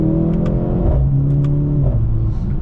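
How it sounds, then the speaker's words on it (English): A 2025 Mercedes-AMG C63 revs hard toward redline in fourth gear with a manual shift mode, its engine note climbing and dipping in quick sweeps, loud and close from inside the cabin. "I'll redline it."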